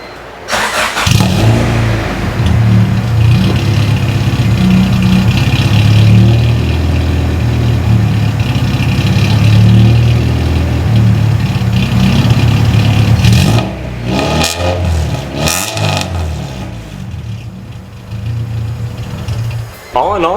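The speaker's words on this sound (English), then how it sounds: "It does have that beehive Honda Civic tone to it that I can't stand, but the headers sound great" A Honda Civic EK engine fitted with a PLM header and DNA exhaust runs loud and close, holding a steady idle with a couple of brief revs, its buzzy exhaust tone dominating throughout.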